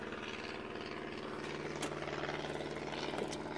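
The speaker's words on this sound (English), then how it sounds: "It's a helicopter." A helicopter passes over a beach, its steady rotor thrum and engine drone continuous and fairly loud throughout, heard from below without talk.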